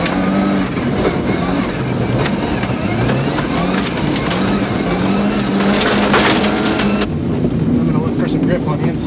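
A powered rally car, one of a 2016 Ford Focus RS and a Subaru STI, drives as the lead car, its engine droning loudly and rising and falling steadily, with gravel crunching and the cabin rattling throughout.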